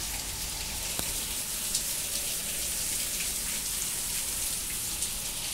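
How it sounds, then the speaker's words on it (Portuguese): Steady rain falls outdoors, a dense, even hiss of drops with occasional closer patters on a surface, continuous throughout and fairly loud. "vou mostrar aqui pra vocês o tempo, como é que tá o tempo de chuva"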